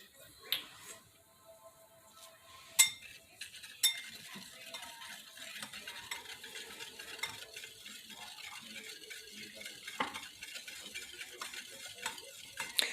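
A spoon stirs Killer Hog barbecue rub into a brown sugar glaze in a bowl, quiet scraping and swirling strokes punctuated by a few sharp clinks against the side.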